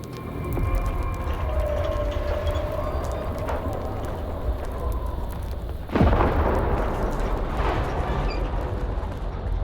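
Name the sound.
gunfire and explosions in S.T.A.L.K.E.R. 2 video game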